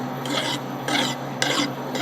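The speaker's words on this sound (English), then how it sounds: "deburr it a little bit and call it good" A file rasps back and forth across a weld on a Kawasaki F7 steering part, three close, loud gritty strokes in an even rhythm over a faint background hum, with no talking.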